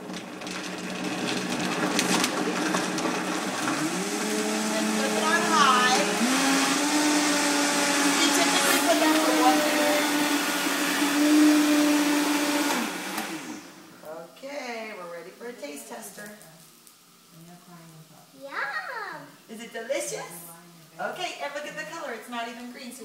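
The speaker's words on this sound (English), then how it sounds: "let's go ahead and put our lid on and give it a blend" A countertop blender whirs loudly for about thirteen seconds as it blends a green smoothie of banana and vegetables, its motor pitch rising and settling, then stops and someone talks.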